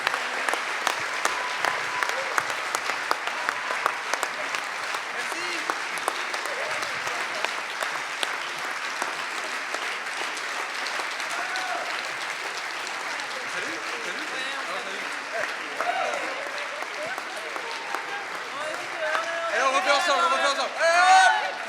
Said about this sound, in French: on va faire du bruit et applaudir tous ensemble bien fort